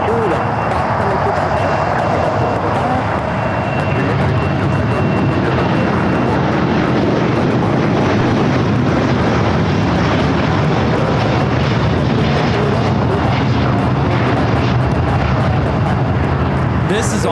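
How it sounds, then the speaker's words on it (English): All Nippon Airways Boeing 787-9 Dreamliner taking off from LAX runway 25 Right bound for Tokyo Narita, a loud, sustained jet engine roar that holds steady throughout. "This is All Nippon Airways Flight 5 taking off to Tokyo Narita on the 787-9 Dreamliner"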